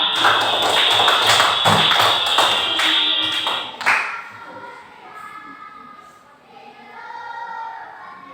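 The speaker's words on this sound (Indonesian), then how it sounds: "tepuk tangan untuk kalian semua" A classroom of pupils claps for several seconds in a dense, close burst of applause that breaks off abruptly, leaving faint room noise and quiet voices.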